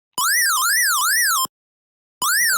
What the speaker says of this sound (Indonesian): Bunyi pada si buzzer ini akan bunyi.